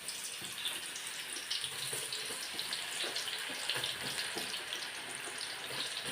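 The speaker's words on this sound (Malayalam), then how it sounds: "ഇനി ഞാൻ ആ അരിഞ്ഞതെല്ലാം കൂടെ തിളച്ച എണ്ണയിലേക്ക് ഇടുവാണേ." Thin slices of raw jackfruit frying in boiling oil for chips, a steady dense sizzle and bubbling that runs unbroken from start to finish, close and fairly loud, with no talking.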